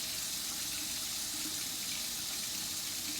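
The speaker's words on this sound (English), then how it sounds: "So you're gonna rinse your hands without touching the sink." Steady broadband hiss of tap water running into a sink while hands are rinsed, continuous and fairly soft with no voices.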